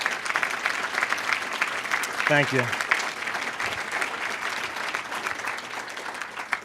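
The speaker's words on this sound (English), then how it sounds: "And a round of applause." An audience at a leadership award ceremony gives sustained applause for two honorees, a continuous wash of many hands clapping, with a short spoken thank-you heard over it partway through.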